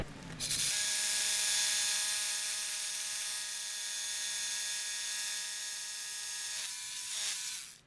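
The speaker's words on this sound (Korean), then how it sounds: "이쪽은 청소 안 하는 공정인데 여기도 천공을 먼저 해놓겠습니다" A power drill bores holes into concrete for chemical anchors, a loud, steady motor whine with a rattling mechanical buzz that starts abruptly, runs for about six seconds, then winds down.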